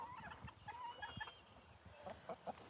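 Chickens cluck and call in short, scattered bursts as they are let out of their coop on a bright early morning on a farm. The calls are close and moderate, with soft background rustling.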